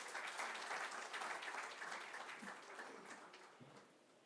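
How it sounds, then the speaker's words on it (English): Applause from an audience at a tax refresher course event honoring a speaker, steady dense clapping from many hands that slowly thins and fades toward the end. "I request to have a big round of applause for Nihar sir"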